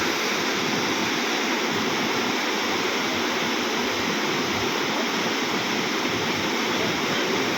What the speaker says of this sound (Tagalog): ito po yung pinaka malaking sapa kagaling po ito na San Miguel